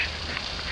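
A duck quacks while another bird snaps at its head: a short, raspy, continuous burst of noise under a second long, steady and fairly loud.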